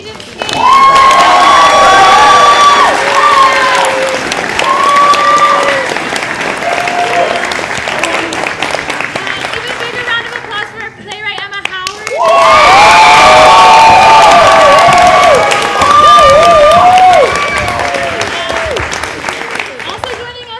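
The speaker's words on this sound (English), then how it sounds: "One more big round of applause for our creative team" A festival theater audience bursts into loud applause, cheers and whoops for the creative team, swelling twice with shrill shouts over the clapping.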